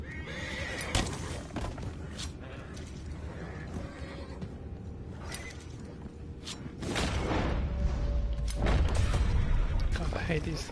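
Horses neigh and whinny several times in Red Dead Redemption 2, with hooves clopping and creaking gear around them, growing busier and louder in the second half while a voice talks at points.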